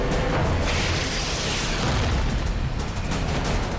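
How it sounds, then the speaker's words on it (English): A Sidewinder air-to-air missile detonates by the tail of a MiG in a dogfight, a dense roaring blast that stays loud and sustained across the whole stretch, with no voices. "missile detonated by the tail"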